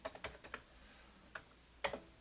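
Someone types on a Commodore 64 keyboard, sending disk drive commands, with faint, close, irregular key clicks in a short burst, a pause, then a few more taps, and no talk.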